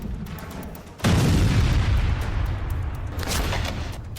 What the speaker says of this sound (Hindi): बोट पर बम से स्ट्राइक के बाद जोरदार धमाका हुआ।